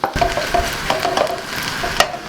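Onions and potatoes fry in a little oil in a pan, a close, lively sizzle punctuated by quick stirring scrapes and clicks, alone with no voices.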